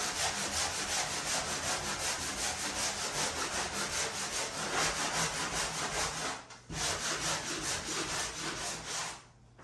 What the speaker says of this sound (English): the reason for sanding is because I want it to be as smooth as possible